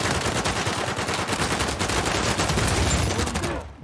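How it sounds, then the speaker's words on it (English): Dense automatic gunfire from a multiplayer match of the Uncharted 4 video game, loud and continuous bursts of rapid shots that fill the whole stretch before cutting off abruptly at the end. "At least that's where my teammate is shooting."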